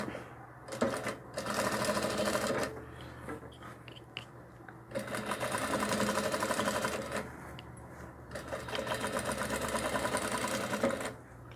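A sewing machine stitches a dress for a cloth rag doll, running in several steady bursts of rapid needle chatter separated by short pauses, close and moderately loud.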